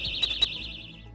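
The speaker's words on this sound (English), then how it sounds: "it also has a little alarm that I'm going to make go off" A small handheld personal safety alarm is set off at a self-defense product event, giving a loud, steady high-pitched electronic tone with two brief louder pulses, heard alone and close.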